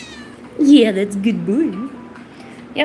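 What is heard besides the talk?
cat meowing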